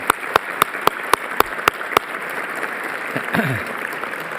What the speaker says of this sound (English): if you would please join me in a round of applause to thank him